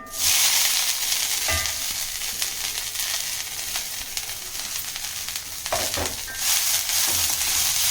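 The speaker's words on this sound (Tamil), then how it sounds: "இப்போ இந்த முருங்கைப்பூ போட்டு வதக்கிக்கலாம்" Drumstick flowers sautéing in a little oil in a pan for thuvayal, a loud continuous sizzle broken by a few scraping stirs, close up with no talking.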